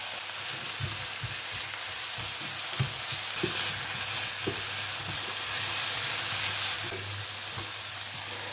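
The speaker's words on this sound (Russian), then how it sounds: "Даем прожариться буквально минуточку" Chicken and zucchini frying in oil in a pan, a steady close sizzle with soft scraping stirs and occasional taps throughout.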